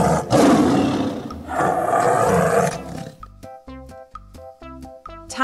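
A tiger gives a loud, rough, sustained roar, then a run of plucked, bouncy musical notes follows from a children's vocabulary lesson, with no talking.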